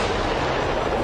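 Bombing explosions across Lebanon during the Israel–Hezbollah war: a dense, continuous roar of blasts and heavy booms, loud and sustained throughout with no pauses and no voices.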